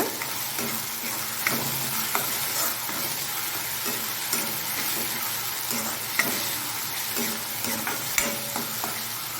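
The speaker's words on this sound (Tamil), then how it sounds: "இஞ்சி பூண்டு பேஸ்ட் சேர்த்து நல்லா வதக்கி விடுங்க" Ginger garlic paste and onions sauté in a pan for mushroom gravy, a steady close sizzle broken by scattered stirring clicks and scrapes of a spoon, with no one talking.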